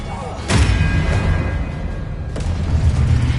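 Two booming, whooshing blasts from the Expelliarmus spell in the Hogwarts Legacy video game, the first sharp burst followed by a second a couple of seconds later over a loud, rumbling game soundscape.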